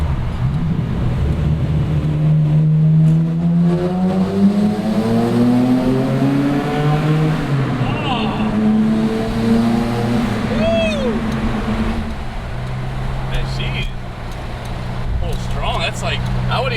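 A Nissan Laurel with an RB26 engine swap pulls hard in second gear, its engine note climbing steadily up the revs close by, with people talking over it inside the car.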